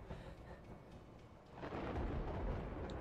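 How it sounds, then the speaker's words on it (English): Deep thunder rumbles through a rainy storm scene in the video game A Way Out, swelling louder partway through into a heavy, broad roll over steady rain. "Let's time it with the thunder."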